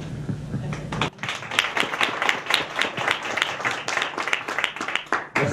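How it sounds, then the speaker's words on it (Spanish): An audience at a cross-interview event breaks into applause after a short opening, dense clapping that swells and holds for several seconds at close range, with a few voices mixed in. "No sé si me aplauden a mí o aplauden a Gabriela."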